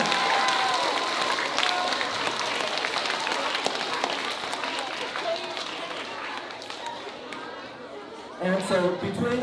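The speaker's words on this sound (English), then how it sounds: "Let's give them another round of applause." An audience at an elementary school performance claps in a steady wash of applause with crowd murmur, fairly loud and sustained, fading slightly before a voice speaks near the end.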